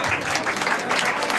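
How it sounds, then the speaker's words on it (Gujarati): An audience claps at a mobile and electronics store's mega lucky draw event, producing a brief, dense burst of close, loud applause with a faint crowd murmur. "મારા માટે તાળીઓ વગાડો યાર"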